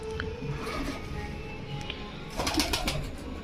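Pigeons of several breeds cooing inside a loft where paired birds are kept in cages, soft low coos scattered among other faint bird calls, with a brief flurry of louder activity near the end.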